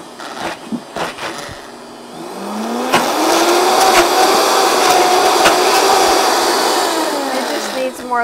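A blender whirs loudly and continuously with a tamper pushing thick pumpkin hummus down, its motor pitch shifting and bogging as the mix catches, after a few short knocks at the start.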